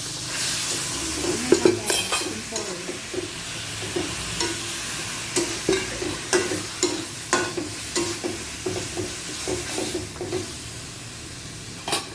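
Sisig being stirred in a frying pan, a steady sizzle under repeated scraping and clinking strokes of a utensil against the pan at an irregular, fairly quick rhythm, close and moderately loud.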